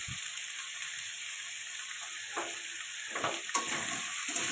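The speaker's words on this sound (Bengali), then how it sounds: "এটা একটু ভালো করে কষিয়ে নেব।" Potatoes and fish sputter with a steady hiss as they are stir-fried in a pan for a fish curry, with a few soft scraping stirs toward the end, quiet and close.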